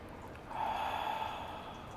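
Yoga breath pushed out through a gently constricted throat to fog a mirror: one steady, soft, airy hiss rises at about half a second and holds close and quiet for over a second before fading.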